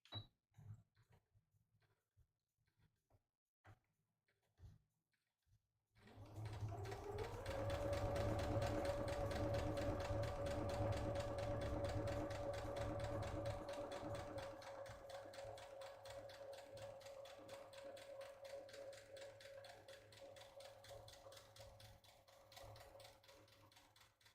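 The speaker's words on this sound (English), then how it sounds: "About 3 more stitches and back stitch." A sewing machine runs steadily while stitching a drawstring bag, a few forward stitches followed by a back stitch, after some quiet handling at the start; a loud, close, continuous motor hum with a rapid needle rhythm.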